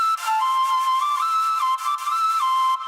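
A synth flute preset called Celestial plays a bright melody with gliding pitch and mod-wheel automation, sustained notes stepping up and down, loud and alone.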